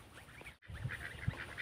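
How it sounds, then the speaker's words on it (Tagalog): Geese kept as backyard poultry with their goslings honk in a few short, nasal calls at moderate distance, spaced irregularly over a low outdoor background. "mga gansa"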